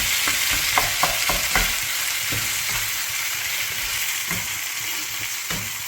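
Noodles frying in an allium sauce with oyster sauce, a steady sizzle under repeated scraping and clattering stirs in the pan, close and fairly loud, with no talking.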